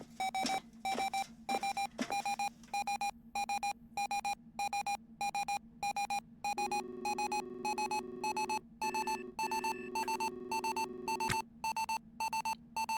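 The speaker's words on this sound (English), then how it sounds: "so at 5 kilometers, the prox alarm goes off as a reminder." A spaceship proximity alarm in the space game Ostranauts beeps in a fast, steady on-off pattern throughout, loud and electronic, with a sustained lower warning tone joining partway through.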